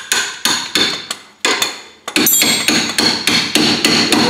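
Hammer pounding on an 11/16 bolt, a run of sharp metallic strikes in steady rhythm, roughly a dozen loud close blows with a brief pause midway, then faster repeated hits.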